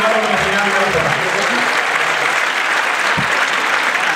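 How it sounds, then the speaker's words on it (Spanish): A crowd at a jota album launch applauds a male performer with loud, dense clapping that carries on for about four seconds. A voice speaks over the start, and a few low thumps come near the end. "Un aplauso para el caballero"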